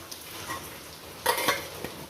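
A spoon stirs chayote peel chutney with coconut in a pan, soft scraping and a few clinks against the metal, close and quiet with no talk.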